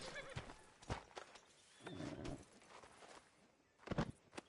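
In the Red Dead Redemption II video game world, a horse whinnies in several short bursts with soft hoof clops between them, all fairly faint, alongside a busy street outside the sheriff's office.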